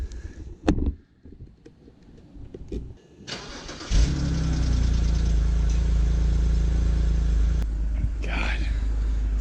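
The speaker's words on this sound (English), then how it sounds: "let's see a cold start on a bone stock 328i" A stock BMW 328i cold-starts: a short crank, then the engine catches and settles into a loud, steady idle rumble up close, with a little noise before the start.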